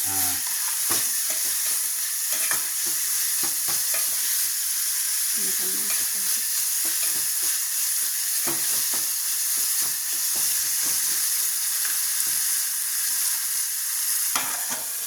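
Chopped tomatoes fry in hot oil for a broad-bean curry, giving a steady, loud sizzle with bursts of crackle throughout and occasional stirring clatter, with no talk.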